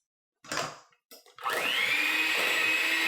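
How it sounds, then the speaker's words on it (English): A hand blender mixes thick banana muffin batter with mashed bananas. A few short knocks come first, then the motor whirs up to a loud, steady, close whine that holds to the end. "Today I am going to use my hand blender."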